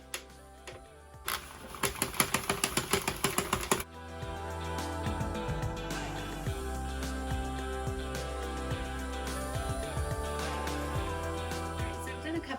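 A hand-cranked knitting machine, with its carriage pushed across stiffly because the yarn tension is set too tight. Several seconds of quick clicking and clacking lead into a steady, close mechanical whirr with rhythmic ticks.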